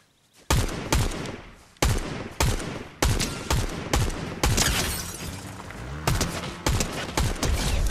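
Rapid gunfire in the Fortnite video game: loud, close bursts of repeated shots in quick clusters, with sharp cracks and short gaps between volleys.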